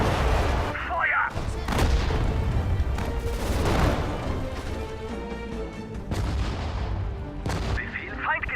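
Artillery and gunfire boom through a WWII strategy video game battle, with dense overlapping blasts and crashes forming a loud continuous barrage, and voices briefly audible under the explosions.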